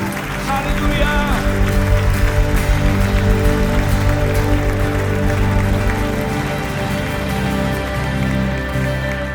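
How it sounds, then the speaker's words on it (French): A church congregation applauds at a worship service, its clapping dense and continuous under loud music that runs throughout, with no pause in the applause. "Est-ce qu'on peut applaudir le Roi des Rois, le Seigneur des Seigneurs?"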